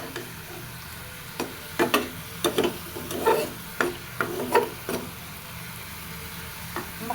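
Red amaranth greens frying in a pan, a low sizzle under a string of spatula scrapes and knocks as the leaves are stirred, close and fairly quiet.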